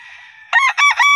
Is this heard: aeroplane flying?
no